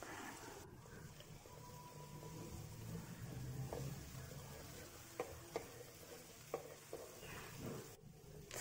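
Beaten eggs sizzle softly in a pan with the aromatics for seafood fried rice, and a spatula stirs them in scattered scraping taps over a steady low frying hiss.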